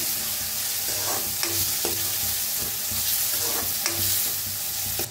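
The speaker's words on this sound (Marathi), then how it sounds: "आता त्याच्यात टाकूया एक अर्धा चमचा हळद, चांगलं भाजून घेऊया" Turmeric frying in a hot pan while being stirred, part of a Maharashtrian potato usal curry, with a steady close sizzle and repeated scraping strokes of the spoon against the pan, no one talking.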